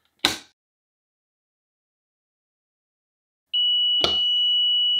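A heat press timer gives a sharp click, falls silent, then sounds a loud continuous electronic beep close by that runs to the end, with another click in the middle.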